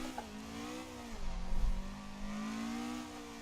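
A car engine in the racing game Assetto Corsa held on throttle in a drift, revving steadily with a droning tone that dips and then climbs again, fairly quiet and with no talk.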